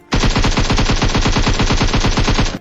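A loud, continuous burst of rapid automatic gunfire in a PUBG-style battle royale game, roughly two and a half seconds of evenly spaced shots with no pause.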